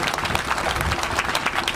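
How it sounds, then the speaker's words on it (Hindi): An audience at a community conference in Bengabad, Jharkhand, claps loudly and steadily, a brief burst of dense crowd applause. "इनके लिए भी जोरदार तालियों से स्वागत कीजिए"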